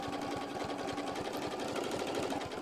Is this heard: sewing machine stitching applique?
yes